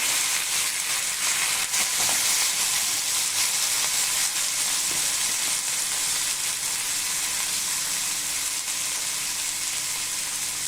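Boiled peanuts sizzle in a pan of hot oil tempered with mustard seeds, curry leaves and dried red chilli, a steady, close frying hiss with light stirring scrapes.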